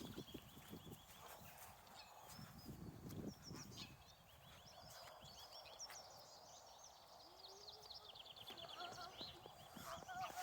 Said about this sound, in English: and there are ducks here.